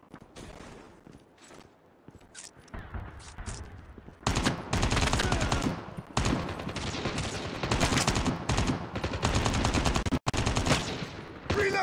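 Automatic gunfire in Call of Duty Mobile on the Crash map during a Search and Destroy match: scattered shots at first, then dense, loud bursts of rifle fire that keep going with brief gaps.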